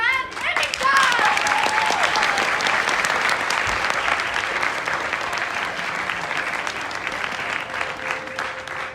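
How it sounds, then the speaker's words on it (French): An audience bursts into loud, sustained applause for two special guests, clapping swelling quickly and then holding steady with a slight fade, cheering voices and crowd noise mixed in. "applaudissez notre invité spécial, Nolan et Victor!"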